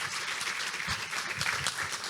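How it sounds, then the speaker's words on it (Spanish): Audience applause for a speaker introduced on stage at a talk on gastro-politics, a dense, even patter of clapping from a crowd, moderately loud and without voices. "les pido un fuertísimo aplauso para Maxi Guerra y su Gastropolítica"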